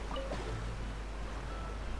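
Loud rushing water in a video game, a steady dense wash of surf-like noise that runs the whole time with no speech over it.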